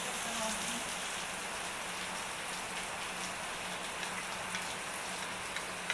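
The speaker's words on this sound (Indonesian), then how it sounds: "Hujannya deras banget teman-teman." Heavy rain pours steadily as a dense, constant hiss with faint patter on surfaces, loud and unbroken throughout, with a faint voice barely present beneath it.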